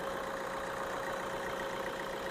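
The diesel engine of a top-end Maruti Brezza ZDi+ idles smoothly with a steady, even hum and a faint high whine, nearby and constant, with no voices.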